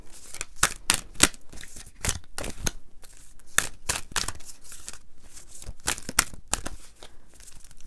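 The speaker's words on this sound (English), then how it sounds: "We're going to use the Osho Zen deck, and we're just going to do a shuffle." Osho Zen tarot deck being shuffled by hand, a string of crisp papery riffles and slaps in irregular bursts, close and fairly quiet, with no talking.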